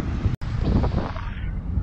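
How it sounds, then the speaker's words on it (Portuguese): Strong wind buffets the microphone while cycling across the bridge in Florianópolis on a rented bike, a loud continuous low roar with one brief dropout. "Que vento é esse, meu Deus?"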